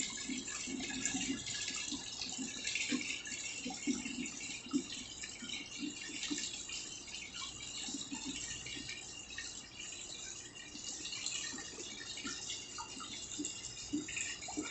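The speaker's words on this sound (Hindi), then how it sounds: "इस तरह से हमको 10 लीटर तक पानी टैंक में भरना है।" Water pouring into a tank in a fluid mechanics lab pipe friction test rig, a continuous splashing, trickling fill with small irregular drips, steady and fairly quiet throughout.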